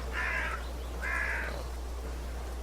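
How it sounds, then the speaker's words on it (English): Two harsh crow caws in The Last Door video game, the calls evenly spaced about a second apart over a low steady hum. "A murder of crows is eating eagerly"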